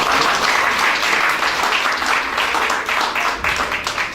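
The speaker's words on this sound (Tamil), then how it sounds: "திருமதி சாந்தினி குறையரங்கன் அவர்களுக்கு இன்னும் ஒரு முறைக்காக பாராட்டு" Audience applause at an award ceremony honouring Mr. Packiyanathan, a dense, steady wash of many hands clapping close by and loudly for the whole stretch, with no talk over it.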